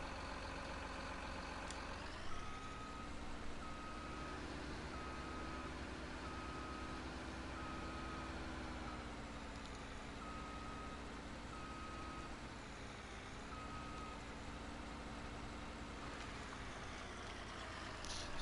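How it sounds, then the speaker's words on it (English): Truck reversing alarm in Farming Simulator 19, loading logs in a forest area: a steady electronic beep repeating at an even pace over a constant idling diesel engine drone, moderately loud and alone. "Bringing the truck in here, loading up in our little forest area here"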